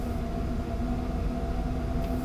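A DB BR 101 electric locomotive in Train Sim World 6 gains speed between Salzburg and Rosenheim, a steady low rumble with constant electric motor hum and rolling rail noise, close and continuous.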